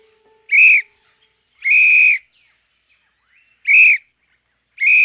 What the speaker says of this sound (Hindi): 2 कदम पीछे हटकर तेजी से सीटी बजाई।